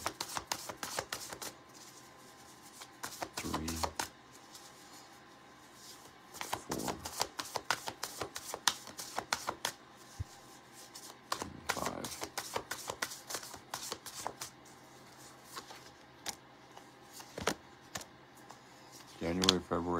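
Tarot cards are shuffled in repeated quick riffling bursts, with pauses between rounds and a few soft low thumps as the deck is handled.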